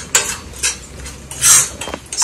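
A spoon scrapes and clinks against a pan while chicken pachadi is mixed, giving several short metallic strokes in an irregular rhythm, close and fairly loud, with no talk.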